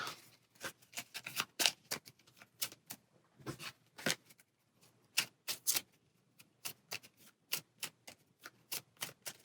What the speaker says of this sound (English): Shuffle these back in.